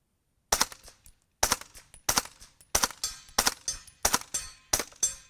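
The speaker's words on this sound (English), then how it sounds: "This is one of the quietest guns I've ever shot" Seven sharp 9mm gunshots from a rare Steyr AUG SMG ring out at a steady pace, each loud crack trailing into a short decaying echo, very quiet for a firearm.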